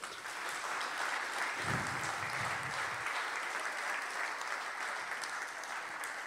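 Sustained applause from an audience at a cultural event in Vaccarizzo Albanese honouring the late artist and poet Pino Cacozza, a steady dense patter of many hands clapping throughout with no break.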